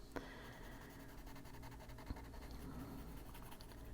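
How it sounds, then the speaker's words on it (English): Faint, close scratching of a colored pencil pressed hard on paper, with repeated short strokes and a couple of light taps. "you can hear the pencil when I'm pushing heavy pressure on it"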